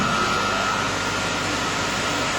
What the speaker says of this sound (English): if I press the start button here, that will start up a regenerative blower which is 5 horsepower